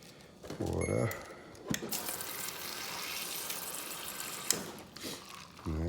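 A Samsung refrigerator's door dispenser pours water into a glass, a steady, close splashing stream lasting several seconds, bracketed by brief mechanical clicks and a whirring hum.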